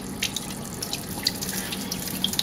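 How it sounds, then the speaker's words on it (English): Water pouring into a film developing tank held at an angle during home black-and-white film processing, a steady liquid rush with small splashy drips, fairly quiet and close. "I'm angling the tank at an angle that makes the water or the fluid go in faster"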